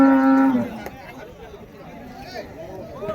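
Native bulls at a busy Friday cattle market in Uthangarai, a single close low moo at the start followed by quieter crowd chatter and scattered background noise.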